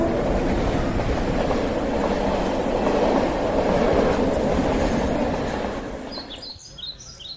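A train passes on a railway with a steady, loud rumble and clickety-clack lasting about six seconds. It then fades quickly, leaving a quieter background with a few faint chirps and no talk.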